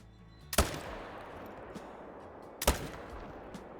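Two sharp hunting rifle shots ring out at mule deer in theHunter video game, about two seconds apart, each with a long rolling echo over steady outdoor ambience.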